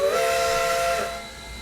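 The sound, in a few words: steam locomotive whistle, East Broad Top No. 15, Trainz 2019 video game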